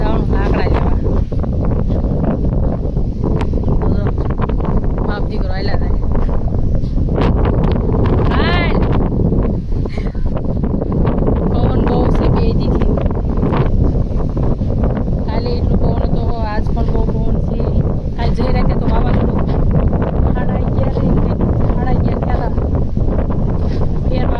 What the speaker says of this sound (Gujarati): પવન પણ બહુ છે એટલે બોલીશ બહુ સંભળાશે નહીં